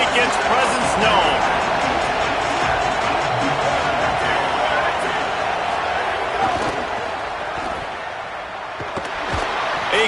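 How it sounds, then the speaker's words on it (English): A stadium crowd roars steadily through a college football game between Alabama and Texas, a dense, constant wall of cheering under a commentator's voice. "This crowd ready to make its presence known."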